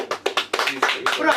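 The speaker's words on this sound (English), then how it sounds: "And we clap." A small group of people clap together at a Bristol gathering honouring the Colston 4, a short burst of uneven claps mixed with voices talking over the applause.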